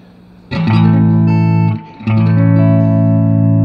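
A sustained chord on an electric guitar rings out, its tone shifting in brightness as the tone switch sweeps through its 11 settings, with a brief dip in the middle before it swells back.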